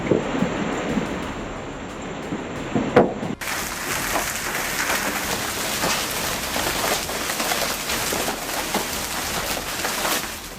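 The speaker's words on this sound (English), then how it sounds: "the sound of hail pounding down like thousands of tiny bullets striking at once" A heavy storm with hail pounding down hard, a dense, continuous roar of impacts that suddenly grows louder and fills the scene, with gusty wind behind it and no voices.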